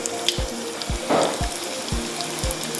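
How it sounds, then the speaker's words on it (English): Vegetable egg rolls deep frying in hot oil give off a faint, steady sizzle, with soft periodic low thumps and a brief louder bubbling burst partway through. "Number one key when you're frying or deep frying anything, never crowd them so that they'll brown evenly on all sides."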